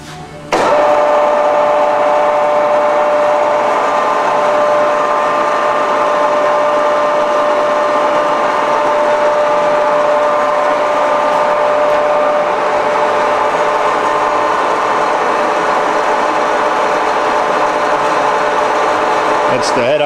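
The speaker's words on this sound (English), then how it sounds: "So we'll go ahead and start the machine. You can hear the spindle, see the travels." The spindle of a Supermill Model J horizontal boring mill with a 2-1/2 inch spindle, on 220 or 440 volt power, runs as a steady whining hum with a high motor tone. It starts abruptly and holds constant and fairly loud to the end, with no talk.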